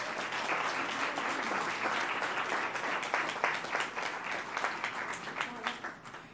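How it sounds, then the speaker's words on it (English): Applause from an audience at a school board meeting honoring students, a continuous round of clapping that thins and grows more scattered toward the end. "Let's give them a round of applause."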